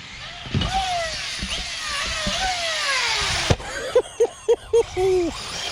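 An Arrma RC car launches at a skate park with a rising motor whine that climbs in pitch, then a sharp impact. A few short revving bursts and a longer whir follow, close by and fairly loud.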